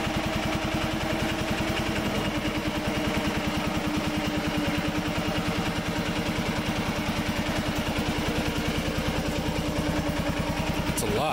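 Riding lawn mower with a Peerless Tecumseh VST hydrostatic transmission, freshly serviced, running steadily at close range with a continuous, throbbing engine drone and faint clatter throughout.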